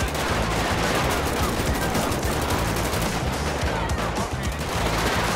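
Automatic gunfire in GTA 5 during a police SWAT shootout, a loud, dense, continuous rattle of rapid shots that fills the whole stretch without a break.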